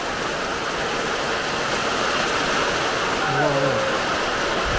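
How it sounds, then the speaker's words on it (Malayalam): Rain falling steadily with wind gusting through it, a dense, constant wash of hiss close by, with a brief voice near the end. "മാറി മാറി കാറ്റുണ്ട് കാറ്റ്"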